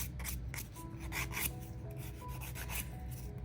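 A nail file lightly strokes across the surface of a grey dip powder manicure, producing soft, steady rasping strokes repeated at an even pace close to the ear.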